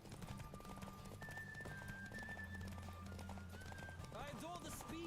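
A horse gallops with rapid rhythmic hoofbeats in The Witcher 3, close and steady under game music, ending with a sharp whinny near the close; a voice talks over part of it.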